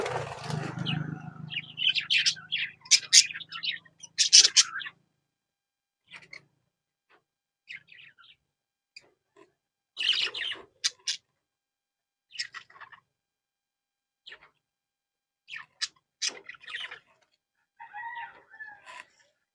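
Pet parakeet lovebirds give scattered sharp, high chirps and squawks in short bursts, close by, separated by quiet gaps, with a brief low rumble at the start.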